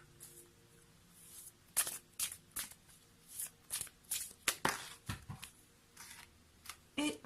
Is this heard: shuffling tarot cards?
yes